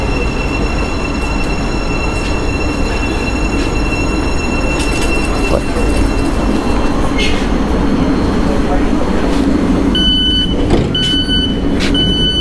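Thameslink train running on rails toward London, a steady loud rumble of wheels and carriages with high metallic squeals and tonal whines, an onboard announcement voice heard over it near the end.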